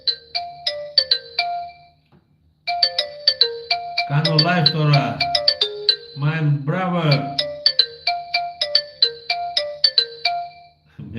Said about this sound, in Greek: Με παίρνει τηλέφωνο